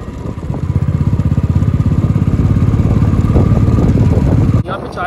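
A motorcycle ridden on a mountain road toward Srinagar in Kashmir runs steadily and close, its engine giving a continuous rhythmic chug before a short drop near the end.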